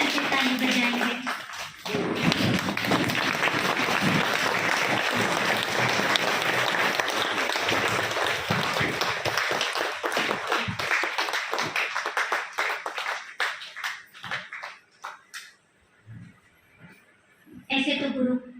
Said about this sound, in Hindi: तो एक बार दीदी के सम्मान में हम सब खड़े होकर के ताली बजाएंगे।